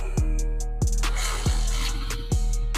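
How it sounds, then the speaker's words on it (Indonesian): A restored 2002 Honda Win 100 motorcycle engine runs close by with a steady low idle hum, broken by four evenly spaced sharp revs or pops under a continuous mechanical drone. "kita dengerin gimana ini suara mesinnya"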